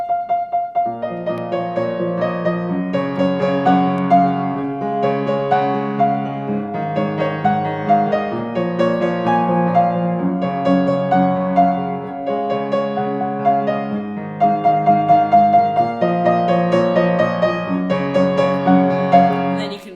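A solo piano plays a song, with steady repeated chords under a simple melody that rises and falls in even phrases, close and clear with no voice.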